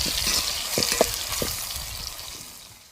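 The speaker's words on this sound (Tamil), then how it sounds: "வெங்காயம் தக்காளி பச்சை மிளகாய் வெள்ளைப்பூலாம் இன்னும் கொஞ்சம் நேரம் எண்ணெயிலே வதங்கி வரட்டுங்க" Onion, tomato, green chili and garlic sautéing in oil for a fish curry masala, a steady close sizzle with a few soft stirring knocks, fading slightly toward the end.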